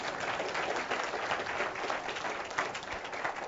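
An audience gives a brief, steady round of applause for an ambassador at a tourism event, moderately distant and fairly faint, with dense overlapping claps throughout.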